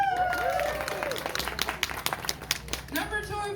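A festival crowd claps and cheers to vote for a contestant, a burst of applause with whoops that swells and fades over a few seconds, with a voice speaking over it.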